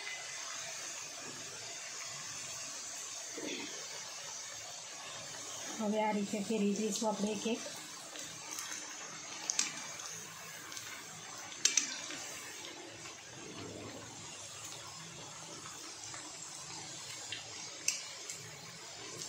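Rice flour chakri frying in hot oil, a low steady sizzle under a voice as she turns the pieces one by one, with a few soft utensil clicks.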